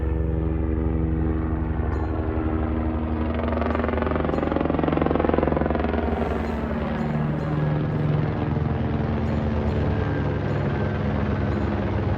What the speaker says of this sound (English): look, it's a helicopter coming to say hello to you and me